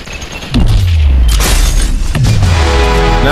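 Heavy gunfire bursts in the VR shooter Population One, two loud booming blasts close by, with only faint voices around them.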